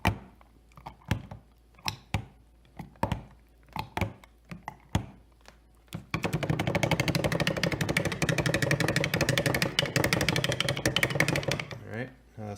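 An immersion blender runs continuously through thick ranch dressing with oil added, a loud steady whirring drone lasting about six seconds after a series of sharp knocks and clunks.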